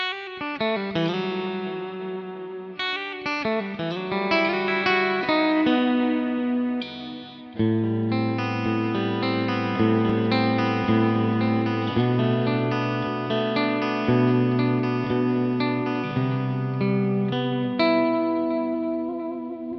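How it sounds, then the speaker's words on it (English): An electric guitar, a Japanese-made Vola JZ FRO P90 offset, plays sustained chords and melodic lines drenched in reverb and shimmering modulation, full and continuous, with a brief pause partway through. "Let's add some reverb and stuff in here."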